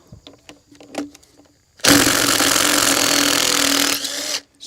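A small DeWalt power tool whirs loudly for about two seconds after a few faint knocks, then winds down, heard on its own without talk.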